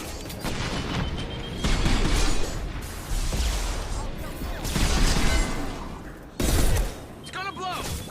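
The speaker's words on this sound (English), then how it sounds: "What was that explosion?" Explosions in the video game Subnautica: Below Zero, a sustained rumbling barrage of blasts and crashing debris that swells and fades in loud waves over several seconds, with a voice talking over part of it.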